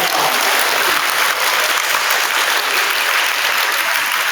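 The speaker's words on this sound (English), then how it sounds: "Let's give them a round of applause." Loud, close applause from a school audience at a fourth-grade awards day honoring chorus students, a thick, continuous wash of clapping that holds steady throughout.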